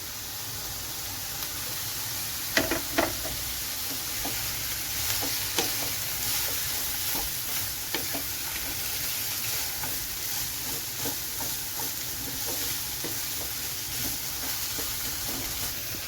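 Carrots and long-sliced capsicum stir-fry in a pan with a steady bright sizzle, broken by occasional clinks and scrapes of a spatula, close and continuous with no talking.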